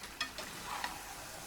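Chopped onion frying in a pan for mashkichiri, a soft continuous sizzle with a few faint clicks of stirring, quiet and close.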